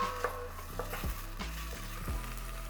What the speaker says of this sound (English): We're just going to fry the onions until they become soft and translucent.